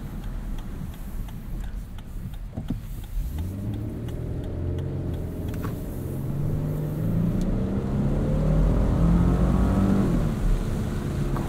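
A 2022 Lexus LX 600 Ultra Luxury pulling away from a stop in normal drive mode, its engine note climbing steadily and growing louder over several seconds, heard from inside the cabin, with a faint ticking in the background.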